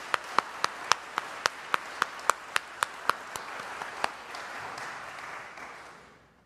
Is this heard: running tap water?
no